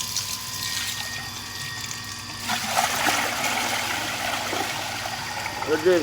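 Contaminated drinking water runs in a thin stream from a household tap, a steady close trickle with a voice speaking over it.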